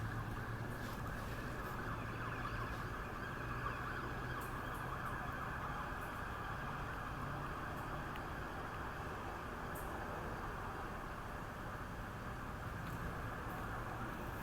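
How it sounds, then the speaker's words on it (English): A police car siren wails steadily in the distance over constant traffic rumble in Tampa, the tone sustained and fairly faint throughout. "Never mind, it's a police car."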